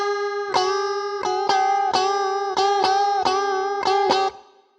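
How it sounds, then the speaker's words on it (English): An electric guitar plays a riff as slow unison bends, about eight evenly spaced bent double-stop hits with a clean, slightly driven tone, close and clear, before the last note fades out. "2 measures where we're doing our unison bend really slow will sound like this"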